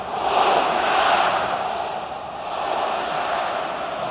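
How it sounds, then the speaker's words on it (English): Stadium crowd noise at Vitsev Stadium in Łódź during a Poland vs Colombia U-20 World Cup football match: a steady, loud, dense roar of many voices with a slight swell and dip, no distinct chants. "A lot of noise around the Vitsev Stadium in Łódź."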